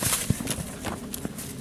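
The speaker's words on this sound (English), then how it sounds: "I can make the mare go faster." A mare's hooves clip-clop at a quickening pace, a brisk, close rhythm of hoofbeats that lasts under two seconds.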